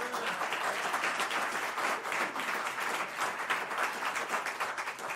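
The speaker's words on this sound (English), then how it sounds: "Give them a big round of applause." An audience applauds steadily throughout, dense clapping from many hands at a consistent volume with no pause.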